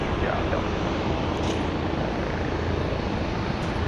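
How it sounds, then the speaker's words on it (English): A helicopter near Dallas Love Field airport gives off a continuous broad whooshing drone, steady and fairly loud throughout, with no clear break. "I'm definitely hearing something that sounds like a helicopter."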